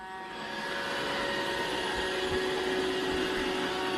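A Roomba robot vacuum cleaner runs indoors, giving a steady whirring hum with a high motor whine that swells slightly at the start and then holds even and close.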